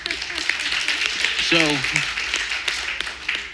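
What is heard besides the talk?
audience applause after speech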